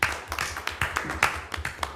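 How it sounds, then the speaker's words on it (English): Applause at a school committee meeting, a small group clapping in uneven bursts that build and fade over a couple of seconds, fairly close, with faint talk underneath. "Big round of applause for all those professional status."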